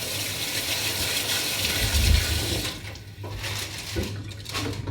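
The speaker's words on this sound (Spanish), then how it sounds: "Voy a lavar las manos." Hands are washed under a running kitchen tap, a steady close rush of water with splashing shifts as the hands move through the stream, and no speech.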